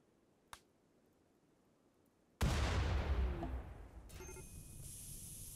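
Short-circuit explosion in the Rimworld video game: a faint click, then a sudden loud blast at mid-clip that rumbles and decays, followed by a high sustained hiss or crackle.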